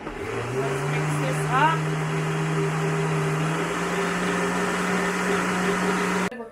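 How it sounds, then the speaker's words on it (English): A kitchen blender whirs steadily, blending spice powder with water, a continuous motor drone with a slight pitch shift midway before it cuts off. "So we'll blend this up."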